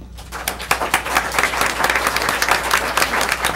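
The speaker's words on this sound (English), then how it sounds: "I think we should applaud her for that." An audience at a school board meeting breaks into steady applause, a dense patter of many hands clapping that keeps going at a moderate, even level for the whole stretch.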